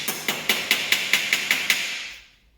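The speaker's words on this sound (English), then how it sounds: "When you've been hammer forming, it's called hammer forming for a good reason" A hammer strikes a sheet metal flange on a Ford Capri kicker plate nine times in a steady rhythm, sharp ringing taps close by, then the ringing fades out.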